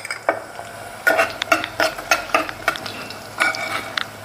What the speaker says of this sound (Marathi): कांदा आपला लालसर भाजला गेला आहे, त्यानंतर आपण त्यात बटाटा घालूयात